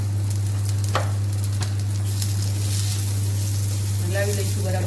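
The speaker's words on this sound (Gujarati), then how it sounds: "હલાવી લઈશું બરાબર." Okra masala with turmeric sizzles steadily in a pan while it is stirred, a constant frying hiss under a low hum, with a few louder scrapes and a voice speaking briefly near the end.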